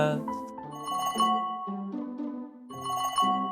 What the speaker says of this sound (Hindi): देखो किसका फोन है।